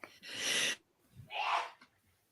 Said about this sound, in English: Oh, bless you. I heard that.